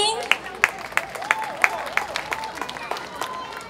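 At a Hengchun folk song competition in the elementary-school solo category, an audience welcomes a young girl singer with brisk, evenly spaced clapping in a steady rhythm, mixed with voices.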